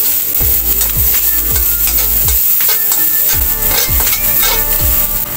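Garlic sautéing in a little cooking oil in a pan, a loud constant sizzle with rhythmic wooden scrapes and knocks from stirring, close up with no talking.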